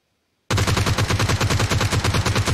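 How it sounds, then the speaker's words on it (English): Loud automatic weapon fire in a mobile battle royale match bursts in abruptly after a brief silence, then runs as a fast, steady stream of closely spaced shots for about two seconds. "Jeez, who's shooting?"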